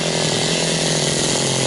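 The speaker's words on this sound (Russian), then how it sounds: "Вот эту кучу сегодня распилю." A chainsaw cutting a pile of firewood for a bathhouse outdoors in frosty forest weather, running steadily and loudly with a continuous high buzzing whine and no pauses or talk.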